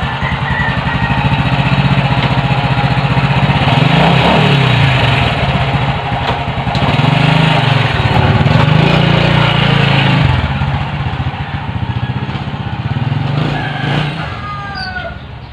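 A Honda XRM motorcycle engine, just repaired after stalling on the road, runs steadily for a road test, a loud close putter with slight rises and falls in throttle, with occasional rooster-like crowing in the background.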